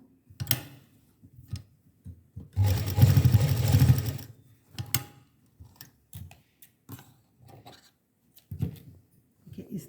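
Sewing machine stitching a small Ladoo Gopal dress, a loud close burst of rapid stitching for about a second and a half, surrounded by scattered clicks and handling taps.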